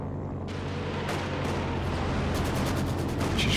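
An artillery barrage in Company of Heroes 2 pounds away as dense, continuous rumbling booms with sharper blasts cracking through, loud and relentless with no pause.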